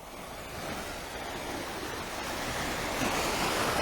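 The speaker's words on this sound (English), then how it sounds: "the sound of the water" Ocean waves wash continuously at Smitons Bay, a broad steady surf roar with some wind, swelling slightly louder toward the end, no voices.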